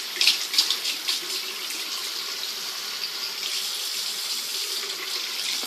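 A tap runs steadily into a sink while a container from mixing a homemade face mask is rinsed out, a continuous close hiss and splash of water with a few louder sloshes at the start.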